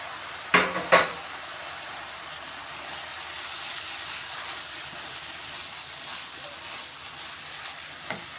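Chopped tomato and green chilies drop into a pot of softened chana dal and cabbage curry with two quick clattering hits, then a steady, fairly quiet sizzle and bubble runs on alone.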